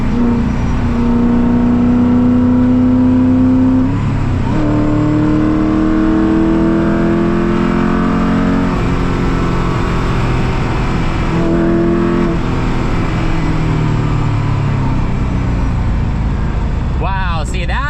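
A Koenigsegg CCX accelerates hard on the Autobahn, its engine droning loud and close as it climbs through several gears. Each shift briefly drops the pitch, and heavy road and wind roar continues under the engine.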